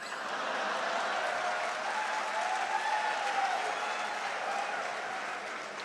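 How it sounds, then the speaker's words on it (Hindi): Audience applause at a Hindi poetry recital, sustained crowd clapping that stays loud and even for several seconds, with faint murmuring and a brief whistle-like tone beneath it. "और व्यंग पर तालियां तो अब आपकी अब उठेंगी"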